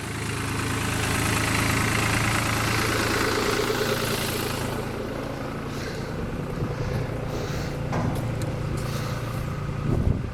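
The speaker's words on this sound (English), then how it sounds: "We've got a tractor here." A tractor engine idles with a steady low, throbbing rumble and rhythmic knock that eases partway through, followed by a few sharp clicks and knocks near the end.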